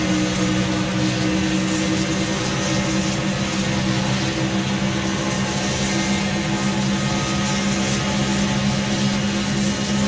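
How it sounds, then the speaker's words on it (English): NASCAR race car engines at Talladega in the racing game Wreckfest, a dense continuous drone of many engines at sustained high revs, loud and steady with no talk. "Listen to those engines scream."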